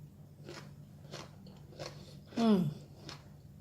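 Someone eats spicy corn salad with salted egg, giving a few soft bites followed by one louder, close crunchy chew, with no talk.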